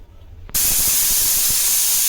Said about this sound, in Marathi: तर मस्तपैकी 4 शिट्ट्या करून घेऊया